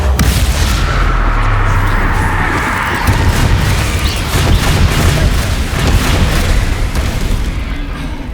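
Bombarda spell blast in Hogwarts Legacy, a heavy deep boom that rolls into a sustained rumble and crackle, loud and close, with other battle noise continuing behind it.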